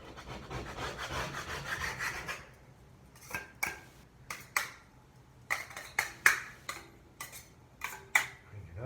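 A knife blade scrapes paint and small stickers off a bedroom wall in a run of short, separate strokes. The strokes come close together after a longer, softer rub at the start, and each one is close and distinct.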